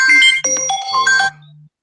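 A phone ringtone plays loud and alone, a bright repeating electronic melody of a few rising and falling notes that cuts off abruptly near the end.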